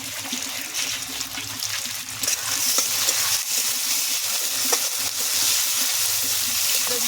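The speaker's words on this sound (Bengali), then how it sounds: "পেঁয়াজ, চিংড়ি মাছ একসঙ্গে ভাজবো।" Onions and shrimp fry together in a pan, a close, steady sizzle with wet bubbling and stirring, growing a bit louder partway through, with no voices.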